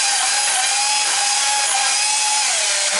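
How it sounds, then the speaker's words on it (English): A small bandsaw cuts through BX armored copper cable, giving a loud, close, continuous whine with a steady tonal drone that shifts slightly in pitch as the blade works through the metal, heard alone without talk. "Let's cut this piece in half. Use my handy dandy little bandsaw."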